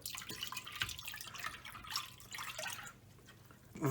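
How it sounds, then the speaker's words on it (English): Water pours and splashes into a bowl of yogurt in a continuous bubbling stream, close by, with no voices. "Into this we'll be adding about 2 cups of water."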